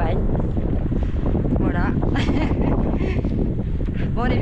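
A strong headwind roars steadily across the microphone while cycling through the Normandy countryside, a loud continuous wind rush. A person speaks briefly over it.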